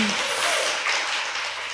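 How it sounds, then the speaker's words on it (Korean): A short burst of applause from a studio audience, dense steady clapping that carries evenly from start to finish and fades slightly at the end. "박수."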